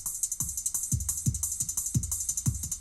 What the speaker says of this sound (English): If there were echo on the drums, it would sound like this.